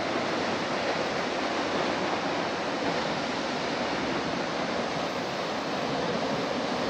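Tat Yueang waterfall near Pakxong, water plunging from a height, fills the scene with a steady, dense roar of white noise that never lets up, loud and close with no voices.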